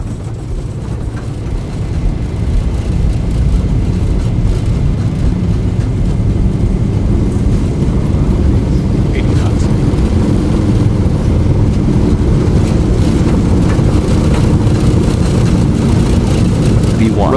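Airliner engines spooling up for takeoff in the X-Plane 11 flight simulator, a loud continuous rumbling drone that builds and holds, with voices talking over it.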